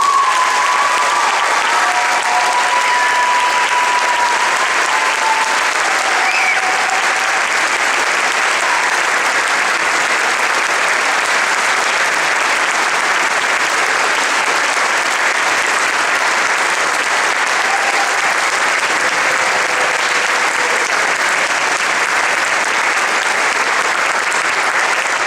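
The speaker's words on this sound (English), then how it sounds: "can I have a round of applause for Mr. Matt DeLorean?" Sustained audience applause at a high school orchestra spring concert, a dense, steady wash of clapping from a full crowd that holds evenly for the whole stretch without pause.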